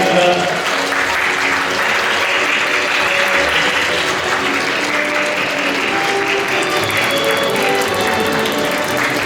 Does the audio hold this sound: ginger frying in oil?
no